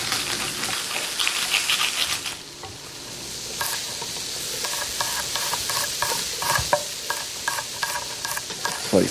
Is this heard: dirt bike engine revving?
no